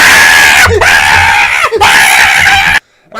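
A woman in The Invisible Man film lets out loud, shrill screams in two long bursts, each broken by a brief gap, close and piercing, then cut off into sudden silence.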